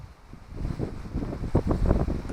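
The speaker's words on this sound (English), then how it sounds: "Proper gusty wind, and it's cold as well." Gusty, cold wind buffets a microphone beside a lake while fishing, a rough low rumble that swells and fades in uneven bursts over a couple of seconds.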